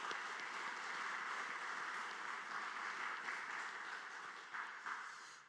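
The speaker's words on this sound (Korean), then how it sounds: "오늘 소중한 말씀을 전해주신 황원영 교수님께 다시 한번 감사의 박수 하도록 하겠습니다." A church congregation breaks into steady applause of thanks, dense sustained clapping from many hands that holds evenly before tapering off at the end.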